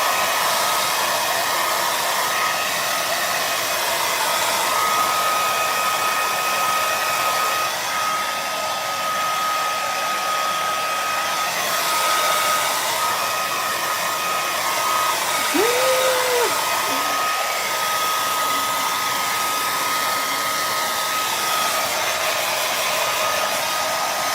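A hair dryer blows a continuous, loud, even roar while drying Rufus the dog after his bath, with a faint whine running through it.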